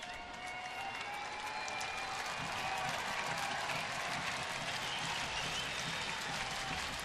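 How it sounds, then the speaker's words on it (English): A baseball stadium crowd in the bottom of the first inning keeps up a steady, broad roar of cheering and clapping, moderately loud and continuous throughout, with no distinct voices standing out. "Crowd coming to life a little bit here in the bottom of the first."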